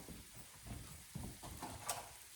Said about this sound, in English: this is that nice sizzle